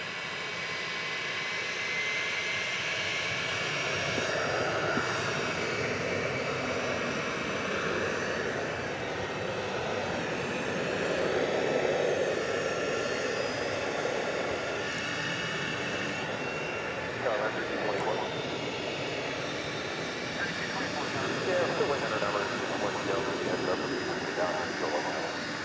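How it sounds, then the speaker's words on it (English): A Frontier Airlines jet arriving from Philadelphia at night at Dallas Fort Worth airport gives a steady, moderately loud broadband engine roar that swells slightly midway, with faint talk mixed in underneath. "Frontier Flight 3985 from Philadelphia with the manatee on the tail"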